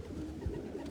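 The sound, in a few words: racing pigeons cooing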